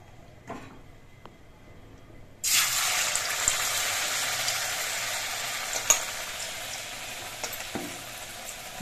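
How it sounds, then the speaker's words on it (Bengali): Battered ash gourd leaf fritters dropped into hot oil for deep-frying: near silence, then a sudden loud, steady sizzle that bursts in and holds, with occasional small pops; no talk. "একটা করে চাল কুমড়োর পাতা নিয়ে আমি এই ব্যাটারের মধ্যে ডুবিয়ে নিয়ে বড়াগুলো ভেজে নেব"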